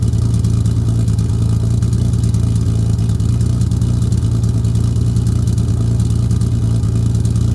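A Datsun 280Z exhaust before a resonator install gives a steady, loud, low rumble. It holds an even, droning note for the whole stretch with no clear rev spikes, and no voices are heard.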